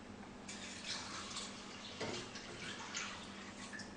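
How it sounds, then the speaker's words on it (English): Water is poured into a pot of dal being cooked, a soft, faint splashing and trickling fill lasting a few seconds with no talk. "And then we're going to go ahead and add in our water."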